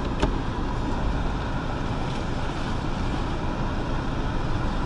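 Used car with about 150,000 miles rolling along on a test drive, heard from inside as a steady, even rumble of road and engine noise with no talking.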